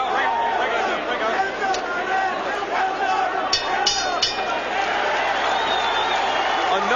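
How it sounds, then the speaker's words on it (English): A 1989 boxing crowd at the Barkley versus Duran fight roars and chants in a large arena, a dense continuous din with rhythmic voices and occasional sharp shouts, under a commentator's talk. "again the crowd picks up the chant of Duran's name"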